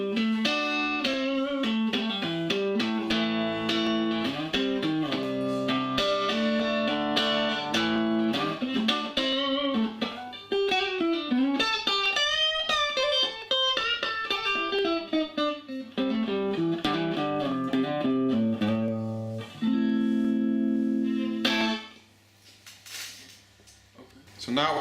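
Electric guitar played through a Crate V5 amp on the clean setting with the neck pickup, ringing notes and chords with clear sustain in a continuous melodic passage, close and alone without talk.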